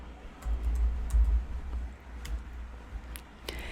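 Keys clack on a computer keyboard while text is entered into a website builder, scattered soft taps over low background hum, close and quiet with no talking.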